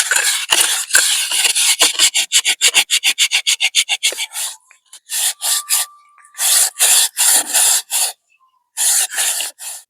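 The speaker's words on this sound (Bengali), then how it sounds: "এইভাবে ঘষতে ঘষতে দেখুন পুরো কালো, মানে একটা যত ময়লা বসেছিল অ্যালুমিনিয়ামের বাটিতে সব উঠে আসছে" A dirty aluminium bowl is rubbed by hand with eggshell, giving a rapid series of close, gritty rasping strokes, then slower separate scrubbing bursts with short pauses between them.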